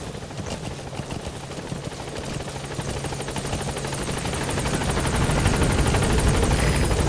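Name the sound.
support helicopter arriving in video game Metal Gear Solid V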